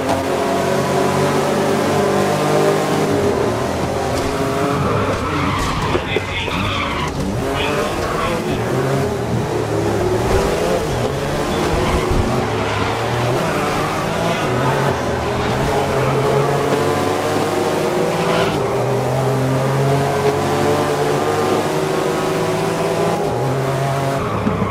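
Race cars lapping Sydney Motorsport Park in the GRID 2019 racing game, with engines revving loud and steady throughout, tires squealing and skidding through turns, and a voice talking intermittently over the roar.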